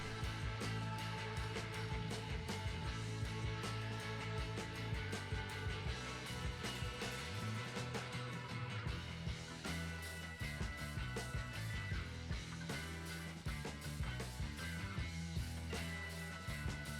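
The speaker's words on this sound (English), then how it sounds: "We are starting with the blending of the dry ingredients in our food processor." A food processor runs continuously, blending dry pie crust ingredients for a vegan pumpkin pie, a loud, even motor whir with a churning rattle that shifts slightly partway through.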